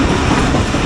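The Karachi Express passenger train runs at speed near Hyderabad, a loud, close, continuous roar of wheels and carriages heard from on board.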